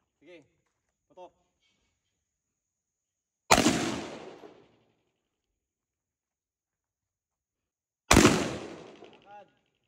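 Two loud, isolated gunshots at a firing range in Baguio, each a sharp crack with a short decaying tail several seconds apart, with brief spoken commands before and after.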